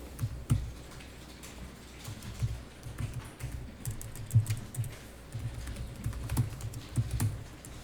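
Soft, scattered keystrokes on a computer keyboard during accounting data entry, with occasional firmer taps like the Enter key, heard close but quiet over a faint room hiss, with no speech.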